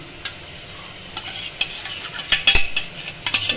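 Spice masala with salt, turmeric and tomato puree frying in oil while being stirred, a close sizzle broken by repeated scraping strokes of a spoon against the pan that grow busier toward the end, with no voices.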